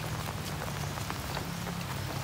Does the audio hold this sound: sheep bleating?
no